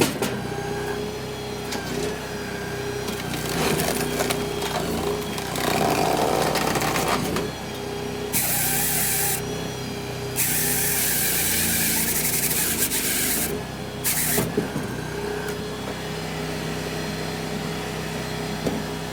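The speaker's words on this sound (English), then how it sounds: "I know this chain is dull, guys, and you can hear the motor bogging a little bit" A YHT 45T log processor with a dull chain grinds through logs while its motor bogs, producing a long, loud, rough mechanical roar with surges and abrupt harsh bursts.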